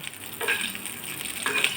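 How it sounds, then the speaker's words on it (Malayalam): Peanuts fry in Dalda fat while being stirred, a step in making sweet aval vilayichathu. Gentle sizzling runs throughout, with a couple of brief stirring scrapes, heard close and with no talking. "കുറച്ച് കപ്പലണ്ടി ഞാൻ വറുത്തിടുന്നുണ്ട് ഡാൾഡയിലാണ് വറക്കണം"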